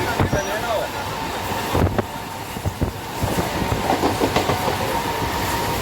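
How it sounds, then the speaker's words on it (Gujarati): A train rumbles along the rails with rhythmic clatter and rushing wind, loud and close, from onboard, with another train running alongside on the adjacent track. "સામે બાજુની ટ્રેન છે રેસ લાગી જાય રેસ જો અમારી ટ્રેન આગળ જાય છે"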